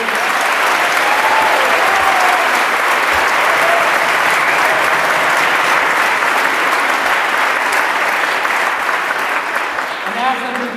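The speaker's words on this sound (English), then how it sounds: "give a round of applause to the candidates" An audience at a gubernatorial candidates' panel applauds for the candidates, a loud, sustained wash of clapping that runs nearly the whole time and tapers slightly at the end.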